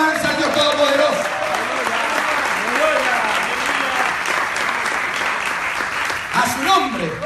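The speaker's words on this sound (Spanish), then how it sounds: "¿Cuánto le pueden dar palmas de alabanza al Dios Todopoderoso?" Church congregation clapping in praise to God during a live service at Templo Israel, a dense, steady wash of applause filling the room throughout, with voices carrying over it.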